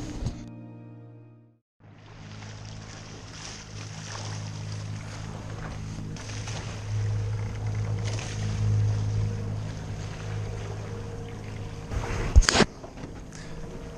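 After a short tonal hum fades out, Mediterranean wind and sea wash steadily around a racing trimaran, with a low engine drone and a sharp knock near the end.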